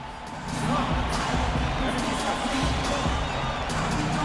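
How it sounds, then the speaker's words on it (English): A sold-out arena crowd in downtown Minneapolis, from the NBA 2K16 basketball video game, murmurs and roars in a dense, continuous wash of noise with faint bounces and thuds underneath. "We've got a capacity crowd in a sold-out arena here in downtown Minneapolis."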